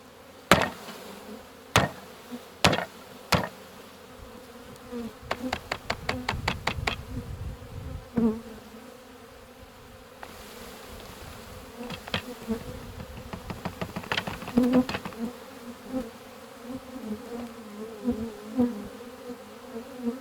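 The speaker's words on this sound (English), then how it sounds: "Here's the bees." Honeybees buzz steadily around an outdoor hive, a continuous drone with close fly-by swells. Sharp knocks and clicks come early on, and a truck is left idling nearby.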